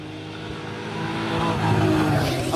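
A Honda CRX fitted with a mildly warmed V8 and a five-speed gearbox climbs a hill at a retro car gathering, its engine droning steadily and growing louder as it pulls closer.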